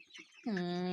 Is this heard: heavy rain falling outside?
no